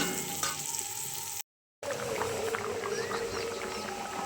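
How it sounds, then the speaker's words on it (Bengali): Garlic, onion and dried chillies frying in oil in a pan, a soft continuous sizzle with a brief gap, quiet and close. "এখানে রসুন পেঁয়াজ শুকনো লঙ্কা ফুল ভেজে নিচ্ছি"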